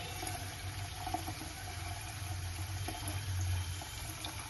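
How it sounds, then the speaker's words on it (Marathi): Clean water is poured to fill a new clay pot, a soft steady stream of running water heard close and faint, without any voices. "आता आपण याच्यामध्ये स्वच्छ पाणी पूर्ण भरून घेऊया"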